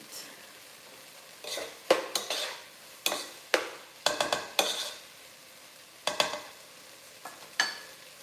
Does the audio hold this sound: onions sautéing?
yes